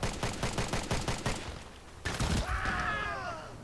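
Rapid gunfire from a first-person shooter game, with a close burst of regular shots followed by a sharp crack and a few scattered reports over a ringing, sweeping tone.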